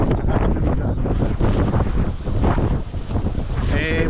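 Strong wind at a seaside campsite buffets the microphone in continuous gusty rumbles, loud and close, with a faint voice briefly audible near the end.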